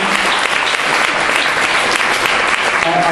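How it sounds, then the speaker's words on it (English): An audience claps steadily and loudly for a few seconds, a dense, even wash of applause from a crowd indoors. "I would ask you maybe not to clap until the end"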